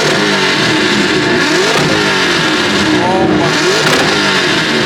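Cars with anti-lag revving against each other in a rev battle, loud and close: sharp rising and falling engine revs climb and drop repeatedly over a constant roar, with a brief exclamation from a voice nearby.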